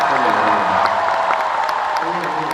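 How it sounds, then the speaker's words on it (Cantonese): Concert audience applauding and cheering at a live show, a loud sustained wash of clapping with scattered whoops, crowd noise throughout. "多謝大家，再次俾啲掌聲唔該。"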